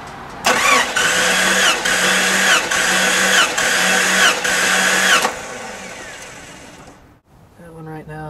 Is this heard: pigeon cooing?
no